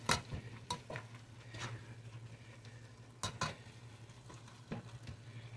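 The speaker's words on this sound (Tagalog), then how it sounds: "I-mash lang natin ng ating sandok para talagang malamog yung kamatis." A ladle scrapes and knocks against a pan while mashing tomatoes in a simmering tamarind-soured pinangat sauce, a series of sharp clinks over a low steady hum and faint sizzle.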